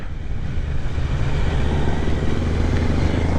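2023 Kawasaki Z900 motorcycle engine on a test ride through a corner, a close, loud, steady rumbling exhaust drone mixed with wind buffeting, no talk.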